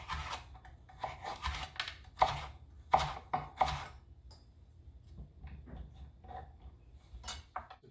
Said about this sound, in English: And then I just julienne these.